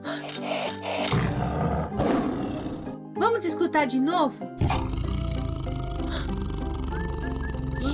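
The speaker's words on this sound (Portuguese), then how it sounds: "Este é o som do tigre." A tiger lets out deep, loud roars and growls in bursts over background music, and a voice speaks briefly between them.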